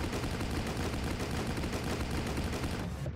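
A turret in the Rocketbirds Hardboiled Chicken co-op game fires in a continuous rapid stream, a dense, even rattle that holds at a steady moderate loudness and cuts off near the end.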